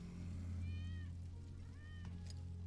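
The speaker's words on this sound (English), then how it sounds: "That's Wedge's cat." A cat meows in the Final Fantasy VII video game, two short, rising cries over a steady low hum of game background sound.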